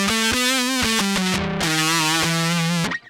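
A bass plugged straight into a mixer with no cabinet simulation plays a short riff of sustained, harmonically rich notes, buzzy and fuzzy with heavy distortion, loud and upfront with no talk.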